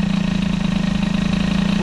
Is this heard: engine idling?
yes